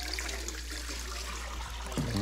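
Water is poured into a bowl of puto cheese batter, already mixed with melted butter or margarine; a steady, close pouring and trickling sound runs throughout, with a brief clatter at the end.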